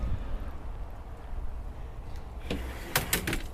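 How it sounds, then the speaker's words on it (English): The electronic entry door of a 2022 American Coach Patriot Freedom motorhome whirs open against steady background noise, ending in a few sharp clicks and clunks near the end, close by with no talk. "Electronic door."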